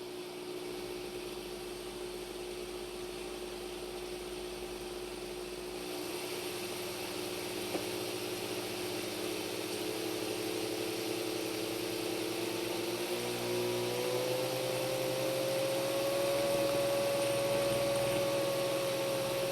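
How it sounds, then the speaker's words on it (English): Electric grinder pulverizing cane sugar into powder, a steady whirring motor drone that runs continuously and shifts pitch upward partway through, moderately loud with no talking. "we're just going to grind, grind, grind"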